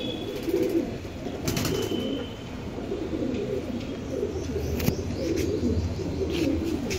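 Teddy pigeons in a loft coo in soft, low, continuous murmurs, several birds overlapping at close range with occasional faint chirps and brief wing flutters.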